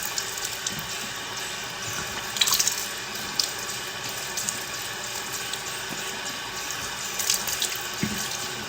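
Water runs steadily from a sink tap while a charcoal-bar face mask is washed off, a constant close rush broken by small splashes and hand movements, with no talking.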